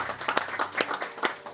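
People at a sales and social media training session for real estate staff in Dubai clap together, a short round of uneven, moderately loud claps with a few sharper hits standing out.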